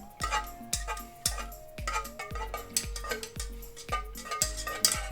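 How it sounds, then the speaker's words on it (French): Chocolate cake batter being stirred slowly with a utensil in a bowl, close-up with repeated soft scraping and tapping strokes at a steady, unhurried rhythm, over faint music. "On mélange tranquillement."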